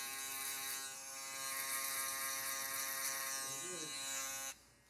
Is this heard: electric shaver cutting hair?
yes